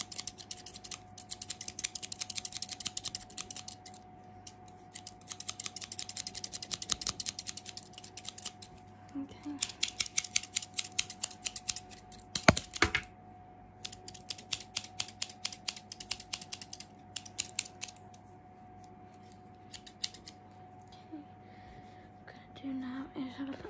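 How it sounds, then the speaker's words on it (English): Rapid bursts of close scissor snips cutting hair, coming in quick clusters with short pauses, with faint whispered speech in between. "going to use my other scissors for the finishing touches."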